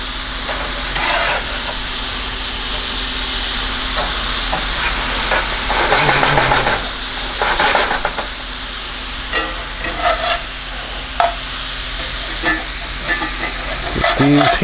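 Food sizzles steadily in a hot pan beside seared green beans and crusted potatoes, with scraping stirs and clatters of turning pieces breaking through the loud, continuous frying.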